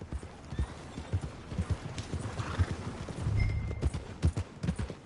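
Horse hooves clip-clop in a steady rhythm along a dirt road in Red Dead Redemption 2, close and distinct, with a brief whinny from the horse partway through.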